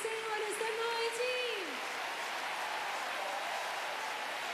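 Church worship audience applauds steadily, a dense even patter of clapping that fills the room, with a sung or spoken note fading at the start.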